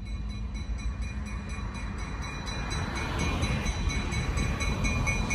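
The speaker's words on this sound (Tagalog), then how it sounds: "There is the train that bringing granite here in Montpelier" A freight train hauling granite rolls past near Montpelier with a continuous rumble and rattle of railcars that grows slightly louder as it nears. No voices are heard.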